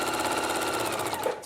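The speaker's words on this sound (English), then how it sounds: "if you're sewing stretch fabric, you might want to get a jersey needle, and I'm using a walking foot again" A sewing machine fitted with a walking foot and jersey needle stitches stretch fabric, a steady close mechanical whir with fast even pulsing that runs without pause, no voices.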